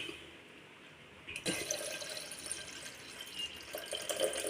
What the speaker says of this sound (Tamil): இந்த தண்ணியை நம்ம இப்படி இருத்துக்கிட்டு இதை தூர ஊற்றிடணும்